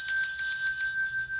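A bright notification bell chimes several times in quick ringing strikes, then fades out in a sustained metallic tone, loud and alone.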